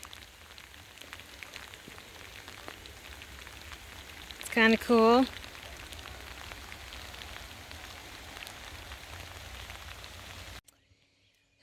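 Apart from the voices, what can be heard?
rain falling at a lake boat launch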